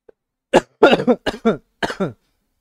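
A series of sharp, harsh coughs from one person close by, in two quick bursts with brief pauses between them.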